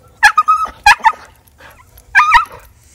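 A dog barks in a few sharp, close bursts with short whines between them, loud against a quiet background.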